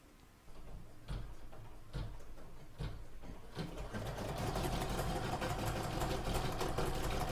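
An embroidery sewing machine stitches golden yellow thread on a mug rug design, starting with a few spaced mechanical clunks before settling into a fast, steady whirring hum with rapid ticking, close and alone.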